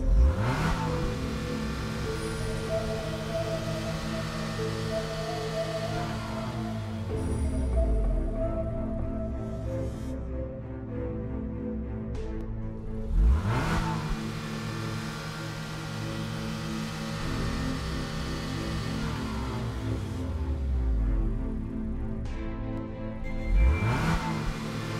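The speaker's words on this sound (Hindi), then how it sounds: "गुल्ली फटाफट गाड़ी स्टार्ट करता है और वहाँ से निकलने भी करते हैं।" A car engine turns over and revs, then several rising and falling engine sweeps pass through as the vehicle accelerates and moves off, loud and close with no talk.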